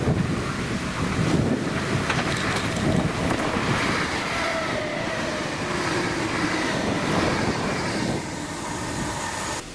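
ScotRail passenger train formed of units 32302 and 32322 rumbles steadily past nearby on a Cumbernauld service, a continuous roar of wheels and motors with gusty wind noise over the microphone.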